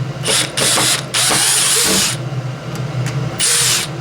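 A DeWalt 12V Xtreme brushless drill in high range backs out screws with loud, close bursts of whirring motor and ratcheting grind, stopping and starting in several short runs.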